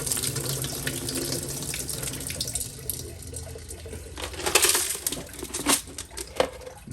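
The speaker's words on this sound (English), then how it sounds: "We're just going to pour all the water out." Water sloshing and splashing as it is poured out of a Raytech Tumble Vibe vibratory tumbler bowl, a steady running pour broken by a few louder splashes and clinks near the end.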